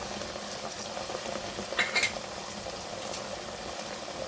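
Ghugni being sautéed with spices in a pan: a soft, continuous sizzle with gentle stirring and a quick pair of metallic clinks midway, close by and with no voices.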